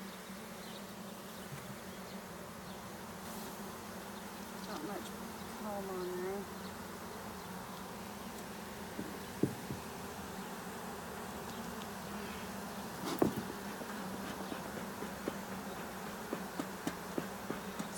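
Honey bees from a 3 lb package, one week after installation, hum softly and continuously as frames are lifted during a hive inspection. A few sharp knocks break through the low, steady drone.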